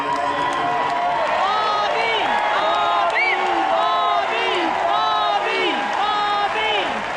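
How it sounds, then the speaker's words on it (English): Large rally audience applauding and cheering for Bobby at a Donald J Trump victory event, a dense steady roar of clapping with whoops rising through it, loud and sustained throughout. "I don't think I've ever introduced anyone that got applause like he just got"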